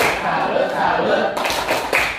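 Junior high students in a Bekasi math classroom perform the 'tepuk salut' clap chant, a burst of group clapping arriving partway through after a stretch of murmuring classroom noise, then a second sharp flurry near the end.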